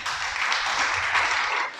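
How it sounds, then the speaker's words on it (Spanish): Brief round of applause closing a Spanish-language Torah teaching session, a dense even clatter of hands that holds steady and then tapers off. "Vamos a darle un aplauso al Creador."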